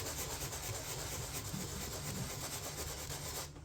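Continuous abrasive rubbing of sandpaper on a fiberglass door panel during repair, steady and close with a rhythmic back-and-forth texture, ending abruptly.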